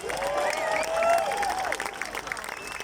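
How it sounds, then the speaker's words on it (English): An audience at an Irish music fleadh gives a pianist a warm round of clapping, a high whistle and cheers rising above the steady applause before it begins to thin out. "Give him a massive round of applause."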